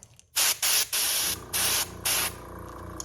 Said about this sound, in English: We gotta make sure it's spraying.